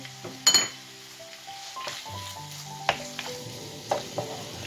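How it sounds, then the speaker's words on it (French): Chicken with garlic cloves, salted and peppered, sizzles in a pan over high heat, a soft steady fry broken by a few sharp clinks of a utensil against the pan. "Vous mettez sur feu vif au départ, pour que la viande colore bien."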